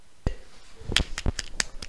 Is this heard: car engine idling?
no